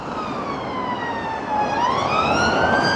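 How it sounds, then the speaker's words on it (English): Wailing police and ambulance sirens sweep up and down over steady traffic noise in Old Swan, Liverpool, with one siren tone rising as it grows louder and nearer. "Police going up, ambulances coming down"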